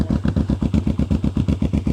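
Yamaha Vmax 1200 motorcycle engine idling, a steady lumpy pulse of evenly spaced low thumps, loud and close with no talking.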